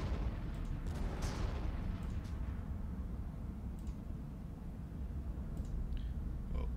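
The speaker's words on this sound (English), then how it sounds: "the artillery is in position to get rid of that cannon," Artillery fire in the Warhammer 40K: Armageddon strategy game, a steady rumbling barrage of low booms with scattered sharper bursts running continuously throughout, loud and dense with no talk over it.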